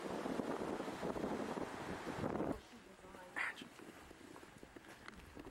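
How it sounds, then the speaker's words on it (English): Strong wind blows on an outdoor trail in the Big Trees area and buffets the microphone in a loud, continuous rush that cuts off abruptly partway through, leaving quieter ambience and a brief sound afterward. "It's real windy now too."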